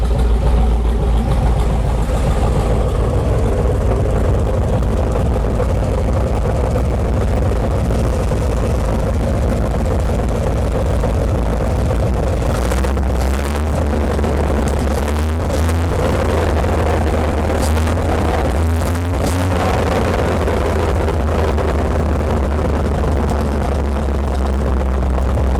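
An Onan 140 kW generator with an 884 cubic inch V8 engine runs loud and steady, a deep continuous drone with a shift in tone partway through and faint clatter over the top.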